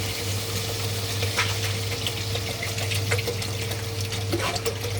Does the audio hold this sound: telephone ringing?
no